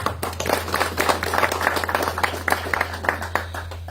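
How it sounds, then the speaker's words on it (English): Crowd applause at a cemetery morgue inauguration ceremony, honoring the cooking committee, with many hands clapping unevenly at mid distance over a steady low electrical hum. "round of applause to the cooking committee."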